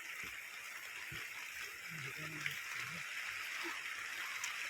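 Strong river current during heavy rain while fishing, a steady broadband rush of flowing water with occasional splashes, close and continuous, with faint voices underneath.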